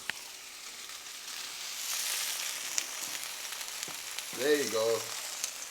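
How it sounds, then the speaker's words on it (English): Meatballs frying in a pan just after being flipped, a steady close crackling sizzle throughout, with a short spoken phrase near the end. "them sizzle like that for about 2 to 3 minutes"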